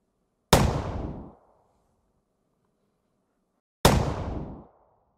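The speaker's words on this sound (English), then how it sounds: "I've got our gunshot sound." Layered gunshot sound effect built for a game, combining a cannon rumble, a gunshot and a whip crack; two loud, sharp blasts about three seconds apart, each with a short decaying rumbling tail, alone in silence.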